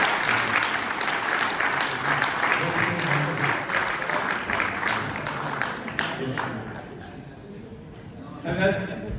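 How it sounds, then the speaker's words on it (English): Sustained applause from an audience at a business conference in Ireland, fairly loud, gradually thinning toward the end as voices start to come through. "Give him a big round of applause"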